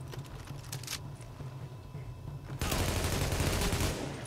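Shotgun fire in The Division video game: a quiet rumbling stretch gives way to a loud, sustained burst of gunfire that fills the rest of the clip, with no voices over it.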